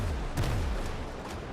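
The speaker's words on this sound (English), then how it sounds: "Maybe we'll get him with our chase cannons." Chase cannons on a ship fire during a naval battle in the pirate game Scallywag, with a few booming shots in dense, continuous battle noise.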